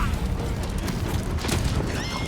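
A horse whinnies in Ghost of Tsushima, its neigh rising over rumbling game ambience and hoof movement, a short, fairly loud call lasting about two seconds.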